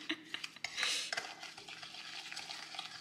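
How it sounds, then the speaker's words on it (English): A spoon scrapes and clinks around a bowl while canola oil is mixed into sugar, quick wet swishes and a few sharper knocks against the side, close and fairly quiet. "Okay, that goes in here with the sugar. Mix that together."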